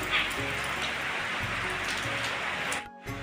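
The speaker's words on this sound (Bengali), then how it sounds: "আর বৃষ্টির আওয়াজটাও কিন্তু একদম আমি মিউট করিনি খুব ভালো লাগছিল বৃষ্টির আওয়াজটা" Morning rain pours steadily around an old house, making a dense, even hiss of falling drops. It is close and continuous, and a brief dip near the end is the only break.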